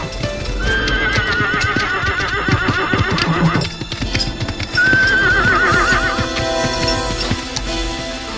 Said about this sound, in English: their horses were suddenly spooked.